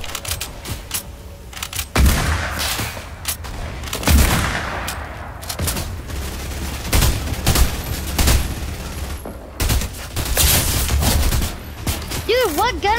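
Gunfire in Fortnite Team Rumble mode: repeated bursts and single shots crack out amid other in-game explosions and effects, some loud and close, others more distant, with a busy, chaotic layered mix over the whole stretch.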